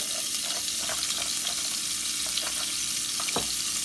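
Butter and oil sizzle steadily in a heated skillet over medium-high heat, a continuous close frying hiss with a few small pops and clinks.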